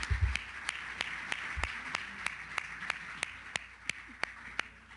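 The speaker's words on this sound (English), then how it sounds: "Let's give a big round of applause for Mallory." Audience clapping at a meeting in Charleston, heard as a steady run of sharp, evenly spaced claps that fades to a few isolated ones, fairly quiet with no talk over it.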